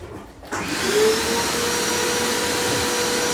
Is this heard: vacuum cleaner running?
yes